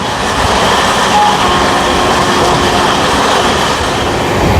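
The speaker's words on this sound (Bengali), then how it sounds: "এই পড়ন্ত বিকেলে আমাদের ট্রেন এই মুহূর্তে পার করছে আমার হোম টাউন ব্যারাকপুর" The Sealdah–Jaynagar Gangasagar Express rushes through Barrackpore in the late afternoon, a loud, steady roar of wheels and carriage rumble with no break.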